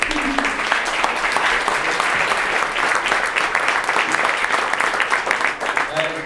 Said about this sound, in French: une bonne main d'applaudissement pour la contribution de David Alexis